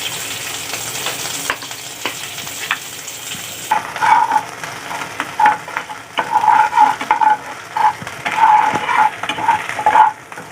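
Garlic, chilli and ginger sizzle in plenty of oil while a spatula stirs and scrapes the pan. Loud rhythmic clinks and scrapes come in bursts over the frying hiss.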